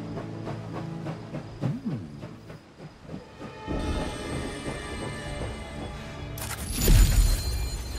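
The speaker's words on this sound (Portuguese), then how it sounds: "Conforme o trem lentamente se para na estação" Train slowing to a stop at a station in the video game Last Train Home, with rumbling and clanking that give way to a broad hiss of steam, then a loud burst near the end.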